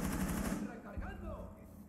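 Short burst of rapid automatic gunfire in Rainbow Six Siege, loud in the first half-second, then a second fainter burst amid game sounds.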